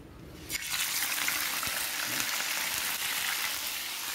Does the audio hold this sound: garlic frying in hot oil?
yes